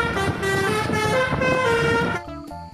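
An Indonesian telolet bus horn plays a quick melodic toot-toot tune, loud and close, with engine rumble underneath.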